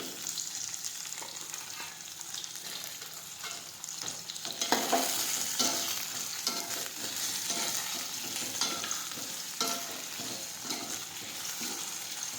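Okra, potato and tomato sautéing in a pan give a continuous close sizzle with repeated spatula scrapes and stirring clatter throughout.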